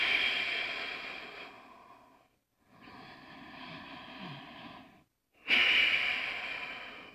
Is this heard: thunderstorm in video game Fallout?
no